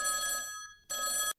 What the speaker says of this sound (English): During her struggle, the phone rang.